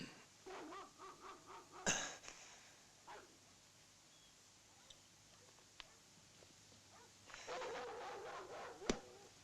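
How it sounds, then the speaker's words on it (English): Dogs barking in an Italian Western setting, a run of rhythmic barks at moderate distance, then a sharp crack, quiet stretches with faint footsteps, and a second flurry of barking near the end. "What's gotten to those damn dogs?"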